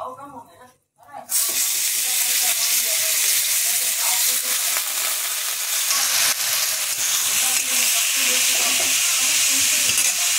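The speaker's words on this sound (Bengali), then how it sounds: "এবার চিনি আতপ চালটা ঢেলে দিচ্ছি।" Gobindobhog rice grains hit hot oil tempered with cumin and garam masala, breaking into a loud, steady sizzle that holds from just after the first second to the end, with a brief quiet gap before the pour.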